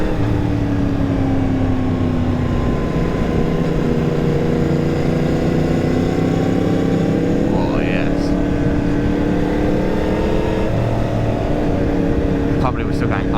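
A motorcycle climbing the Route Napoleon mountain road, its engine droning steadily with shifting pitch and heavy wind rush throughout, with a rider talking over it.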